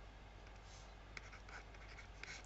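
Chalk or marker scratching out fractions on a board during a maths explanation, a soft continuous scrape with a few sharper taps, faint and close, with no talk over it.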